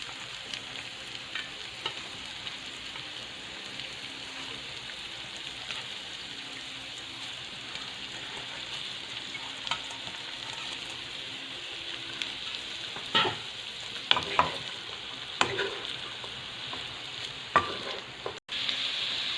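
Onion and banana heart stir-fried with sardines in a pan, giving a soft, continuous sizzle with occasional scraping stirs and small clinks. The sound grows a little busier near the end.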